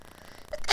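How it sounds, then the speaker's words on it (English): A single loud sneeze bursts out at the end after near silence, short and sharp with a brief intake before it. "Excuse me, sneezing there."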